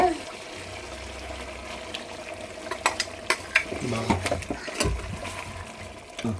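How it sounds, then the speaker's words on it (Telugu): Tomato paste stirred into simmering chicken curry in a pan for Hyderabadi masala gravy, heard as wet scraping and clinking stirs with a soft sizzle, a few sharper spoon knocks later on, under a steady background hum. "ఇప్పుడు టమాటో పేస్ట్ వేస్తున్నాను ముందునే గ్రైండ్ చేసుకున్నాం కదా"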